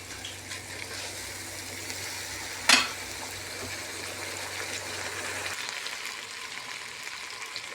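Green peas and rice frying in a pan for paneer matar pulao, a steady broadband sizzle with one sharp splash or clatter partway through, close, no talking.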